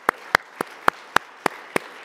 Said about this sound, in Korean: 우리 하나님께 감사하는 마음으로 박수 한 번 더.